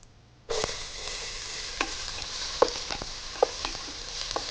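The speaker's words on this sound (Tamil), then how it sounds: "இந்த ஒரு வெங்காயத்தை வதக்கிடலாம்." Onion hits a hot pan with Marathi mokku, cinnamon, cloves and star anise, and a sudden steady sizzle breaks out, dotted with light clicks and scrapes of stirring.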